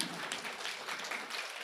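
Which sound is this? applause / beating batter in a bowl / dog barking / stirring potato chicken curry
applause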